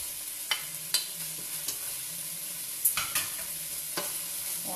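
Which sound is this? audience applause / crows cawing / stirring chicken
stirring chicken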